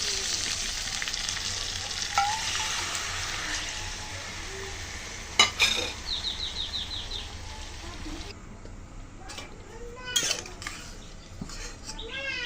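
Tilapia pieces coated in spices sizzle in a pan, and water is poured in so the steady frying hiss drops sharply partway through, followed by scattered utensil clinks and quieter bubbling.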